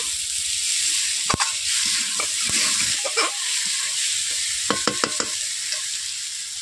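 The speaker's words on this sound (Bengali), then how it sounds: "দেখতেই পাচ্ছেন মশলা সমেত আলু কষিয়ে নেওয়া হয়ে গেছে।" Potatoes frying with spice paste in oil, giving a loud continuous sizzle close by, punctuated by sharp clinks and scrapes of a spoon against the pan.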